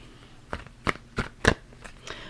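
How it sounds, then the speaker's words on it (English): Several crisp tarot card riffles and snaps, close by, spaced irregularly over a quiet background with no talking. "I'm going to shuffle our tarot cards right now."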